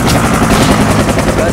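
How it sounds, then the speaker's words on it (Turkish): Helicopter in the military game Project Reality, a loud rotor drone thick with rapid gunfire and chopping pulses, with talk over it. "Helikopter yine geldi ya."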